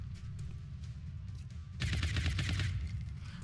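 Weapon shots in a turn-based tactical video game, a sudden loud volley of rapid bursts after a low ambient rumble, lasting about a second before fading into background noise.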